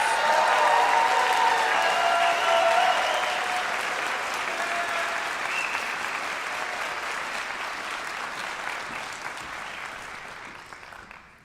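A large crowd at a nurses' pinning ceremony applauds graduates steadily and loudly, the clapping holding strong for a few seconds before gradually thinning and fading toward the end.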